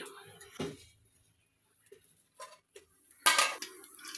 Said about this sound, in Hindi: अब जी इसे मैं बॉयल करने के लिए ऊपर रखती हूँ चूल्हे पे